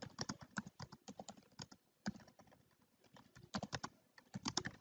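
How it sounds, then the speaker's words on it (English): Quick bursts of computer keyboard typing as a question is entered, uneven clusters of crisp key clicks separated by short pauses, close and fairly quiet. "you would type your question here"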